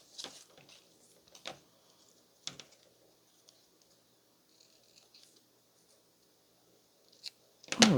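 Scissors snipping paper circles while crafting bookmarks and page tabs, a few short crisp cuts spaced apart at close range, then louder handling rustle at the end.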